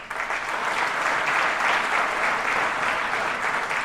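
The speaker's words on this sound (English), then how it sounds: "let's give them a round of applause" An audience applauds nurses at a New York State Assembly member's annual report event, a dense, sustained burst of clapping from many hands filling the room at steady loudness.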